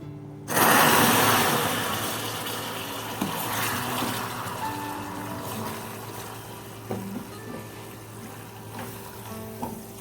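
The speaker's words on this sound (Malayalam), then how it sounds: "ഇനി ഇതിലേക്ക് ഒരു 1/4 കപ്പ് ഇളം ചൂടുള്ള വെള്ളം ഒഴിച്ചു കൊടുക്കാം." Lukewarm water hits melted sugar in a pan for plum cake caramel, setting off a sudden loud, violent sizzle that settles into a long bubbling hiss with scattered clinks and pops, no voices.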